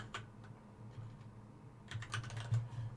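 Typing on a computer keyboard while programming a game: soft, quick key clicks in a short run that bunch into a denser burst near the end, faint and alone without speech.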